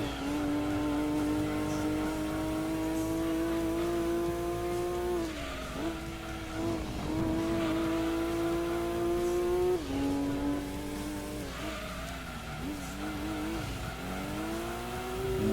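A Nissan Silvia race car in Gran Turismo 2 holds a loud, steady engine drone that climbs through the revs, dips sharply at each gear change or lift of the throttle, then builds again, with occasional tire squeal and no talking.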